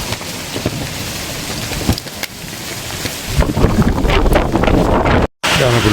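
Rain and gusting wind outdoors at Korulde lake, with a steady patter and rushing wind buffeting close by that grows louder and rougher toward the end.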